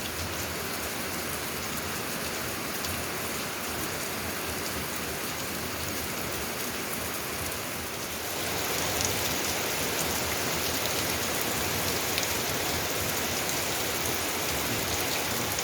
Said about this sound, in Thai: โอ้ฝนช่วงนี้หนักจริง ๆ ครับ